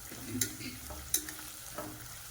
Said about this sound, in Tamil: வெங்காயம் வந்து ரொம்ப வதங்கக்கூடாது. ஒரு 3/4 பதம் வதங்கினா போதும்.